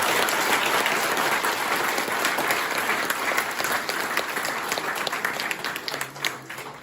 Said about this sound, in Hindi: आप जोरदार तालियां बजाओ